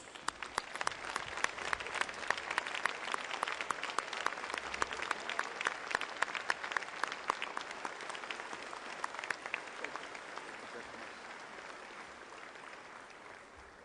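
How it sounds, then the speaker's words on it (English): A large audience at the COP17 conference opening ceremony in South Africa breaks into a warm, sustained round of applause for the President, dense clapping filling the hall before slowly thinning toward the end. "receive our President of the Republic of South Africa, President Zuma, with a warm round of applause"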